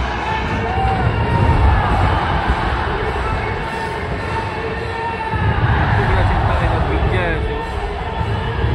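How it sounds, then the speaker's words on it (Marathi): Large crowd gathered for the Chinchpokli Chintamani arrival procession, a dense steady hubbub of many voices with occasional louder swells and distant cheering, continuous and close throughout. "छान गर्दी झालेली आहे।"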